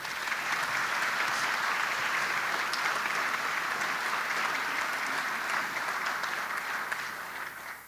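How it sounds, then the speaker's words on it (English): At an alumni medallion and service awards ceremony, an audience gives a sustained round of applause, an even wash of many hands clapping that holds steady before tapering off at the end. "Let's please give a big round of applause to everyone who made this weekend's events"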